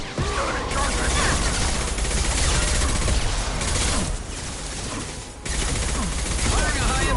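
Sustained heavy video game gunfire roars in a loud, dense wall of rapid shots and blasts, briefly dipping before surging again near the end.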